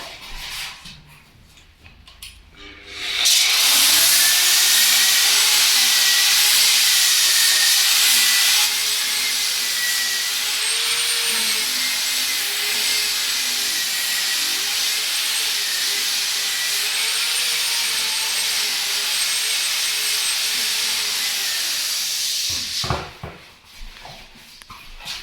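A floor edge sander works around the wall edges of a floor being sanded, a loud, steady motor roar with a whining tone that runs unbroken for about twenty seconds before cutting off, with no talking.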